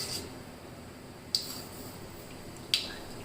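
Mustard seeds heated in hot oil for a fenugreek and millet kadhi give two sharp, isolated pops about a second apart over a faint background sizzle, close and crisp.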